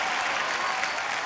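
Studio audience applauding for a music duo on The Kapil Sharma Show, a dense, steady wash of clapping that holds evenly through the whole short burst.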